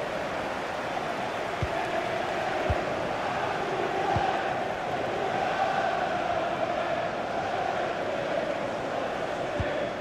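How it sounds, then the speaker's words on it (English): Liverpool fans fill a FIFA 21 match against AC Milan with a steady, distant crowd roar that stays even throughout, with a few soft thumps and faint commentary underneath. "just listen to the Liverpool fans. The crowd very much behind them right now."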